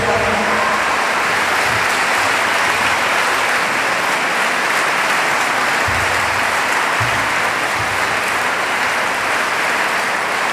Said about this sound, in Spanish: ese fuerte aplauso para don Matías Barco